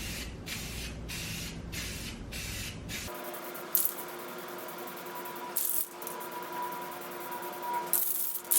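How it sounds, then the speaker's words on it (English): A spray primer can hisses in a rapid series of short bursts, followed by longer continuous sprays with brief pauses, close to the microphone, coating a 3D print. "spray in nice, consistent, sweeping motions to avoid any runs"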